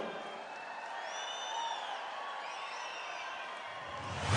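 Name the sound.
loud applause from audience at stage event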